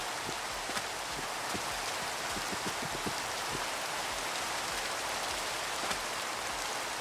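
Steady hiss of rain falling in the Minecraft video game, a dense continuous wash with scattered soft drop patters underneath, even in level and with no voices.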